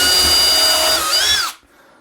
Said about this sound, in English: So I'm going to pre-mark these with my drill so I can get this sanded tonight.